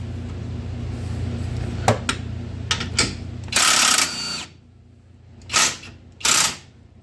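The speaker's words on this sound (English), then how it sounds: "We take this nut off." Metal clicks and ratcheting bursts from a wrench backing a nut off a side-by-side's suspension bolt, several short sharp taps followed by louder loosening runs, close and alone.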